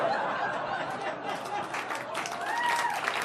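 A comedy club audience at a stand-up set breaks into applause, dense clapping mixed with crowd chatter and a little laughter, steady and fairly loud for the whole stretch.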